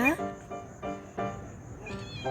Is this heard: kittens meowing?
yes